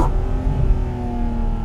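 A Porsche GT4 RS Weissach engine drones steadily close by with a sustained revving tone, holding a fairly even pitch throughout, with no talk over it.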